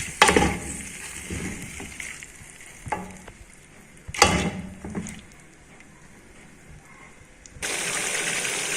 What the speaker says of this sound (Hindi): अब अच्छी तरह हम गोश्त को दही में भूनेंगे।